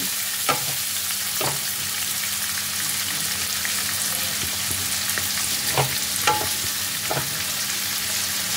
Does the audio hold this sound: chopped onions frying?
yes